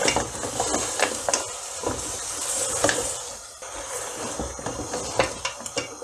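Sheep trotters frying in oil in a handi pot, with steady sizzling and hissing and repeated clinks and scrapes of a spoon against the pot.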